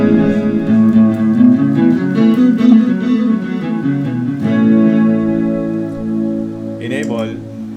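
Guitar played through a Zoom MS-70CDR+ multi-effects pedal with reverb engaged, sustained chords ringing with a washy tail, then a brief bright chirpy flourish near the end.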